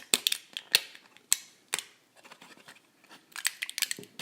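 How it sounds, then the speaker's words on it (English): Foil blister packaging of a Johnny Lightning Micro Strike toy car is dug into and torn, giving sharp, irregular close crinkles and snips in quick bursts separated by short quiet gaps, with no talking. "you're going to dig in to this foil"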